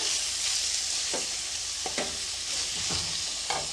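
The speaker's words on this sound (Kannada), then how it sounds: "ಒಂದೊಂದು ತರಕಾರಿ ಹಾಕಿದ ಮೇಲೂ ಎರಡರಿಂದ ಮೂರು ನಿಮಿಷ ಫ್ರೈ ಮಾಡ್ಕೊಳ್ಳೋದ್ರಿಂದ ತರಕಾರಿ ಎಣ್ಣೆಯಲ್ಲಿ ಚೆನ್ನಾಗಿ ಸಾಫ್ಟ್ ಆಗುತ್ತೆ" Vegetables fry in hot oil with a steady, close sizzle, punctuated by several soft scraping stirs of a spatula in the pan at irregular intervals.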